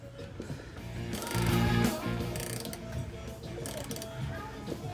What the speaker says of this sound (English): you gotta keep screwing it all the way